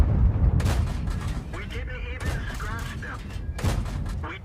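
A Skoda T-25 medium tank fires its gun in World of Tanks, with several heavy, sharp blasts spaced a second or so apart and someone talking between and over the shots.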